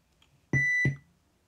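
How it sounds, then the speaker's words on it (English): A Walkman MiniDisc player gives a low-battery warning: two short, clear electronic beeps in quick succession, close and alone in a quiet room. "when you take the battery out, the beep comes back on"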